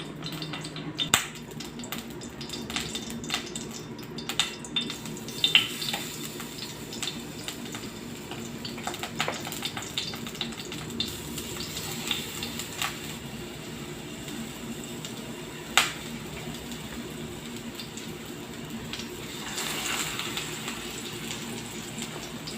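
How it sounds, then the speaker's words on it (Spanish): Slices of ripe plantain fry in oil in a skillet on a stove, giving a continuous close sizzle with scattered sharp pops and crackles throughout and no talking. "La voy a hacer que me queden medio fritas, medio aceitadas."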